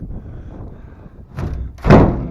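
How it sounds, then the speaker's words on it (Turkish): A door bangs shut with a heavy, sharp thud after a softer knock, close and loud over faint background rumble. "Kapı iyi kapandı bari."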